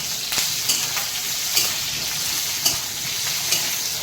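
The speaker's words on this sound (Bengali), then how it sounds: "ফোড়ন দেবো, জিরে কাঁচা লঙ্কা দিয়ে দিচ্ছি" Cumin and green chilies sizzle steadily in hot oil for tempering, a continuous close crackle with a few sharper pops and no talk.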